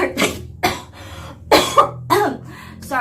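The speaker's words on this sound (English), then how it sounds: "I have a really bad cough right now." Several harsh coughs from a bad cough in a row, close and fairly loud, separated by short pauses.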